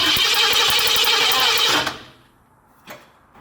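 A car engine cranks over on the starter with the ignition coils disconnected, a loud rapid whirring churn that runs for nearly two seconds without firing, then stops, leaving near quiet and one brief knock.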